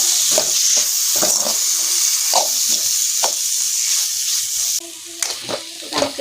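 Tomatoes fry in a hot pan of prawn roast masala, a steady sizzle broken by repeated scraping stirs of a spoon, close and fairly loud, with no one talking.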